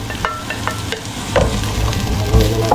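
Onions go into a hot pan for chicken tinola, giving a steady sizzle broken by repeated clinks and scrapes of a utensil stirring.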